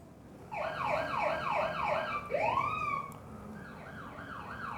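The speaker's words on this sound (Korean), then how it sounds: "구급차예요, 구급차. 앰뷸런스." An ambulance siren wails in a rising and falling electronic pattern, loud and close, switching midway to a swooping yelp before the wail resumes, with no voices over it.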